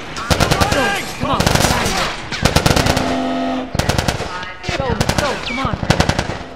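Rapid automatic gunfire bursts loudly in The Last of Us, set in the quarantine zone, in repeated volleys with short gaps, while shouting voices call out between the shots.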